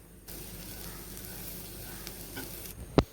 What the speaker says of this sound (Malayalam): തേങ്ങ നല്ല ബ്രൗൺ കളർ ആവുന്ന വരെ നമുക്കൊന്ന് ഫ്രൈ ചെയ്യാം എല്ലാം കൂടി.